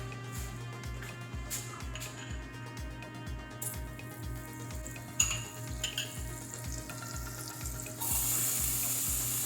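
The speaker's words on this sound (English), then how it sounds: "Take a pan to heat, add butter, garlic, onions, let it sit for 30 seconds." Butter, garlic and onions sizzle and fry steadily in a hot pan while making carrot pasta, a continuous crackling hiss with a low rhythmic hum beneath, growing brighter and louder near the end, with no voices.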